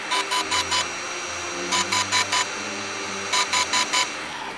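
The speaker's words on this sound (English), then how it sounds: "we should hear some noises that sound like old floppy drive access noises coming from the camera here" A DJI Inspire 1 drone camera starting up gives three bursts of rapid, evenly spaced electronic beeps or clicks, each a run of four, over a low steady hum. The chatter recalls an old floppy drive.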